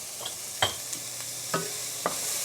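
Vegetables seasoned with salt and pepper are stirred in a pan. A faint sizzle carries a few sharp taps and scrapes of a utensil, spaced about a second apart.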